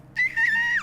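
A human voice imitates a canary's screech with one sudden, sustained, high-pitched shrill note lasting under a second, loud and alone.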